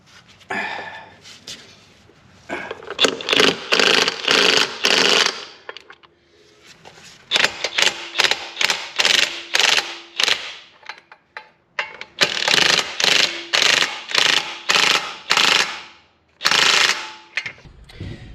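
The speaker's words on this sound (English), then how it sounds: "I'm going to get my impact gun and I am going to drive these things home." Impact gun driving bolts home on an Arctic Cat Prowler: several loud bursts of rapid ratcheting hammering, each lasting a few seconds, separated by short pauses, close up with no talking.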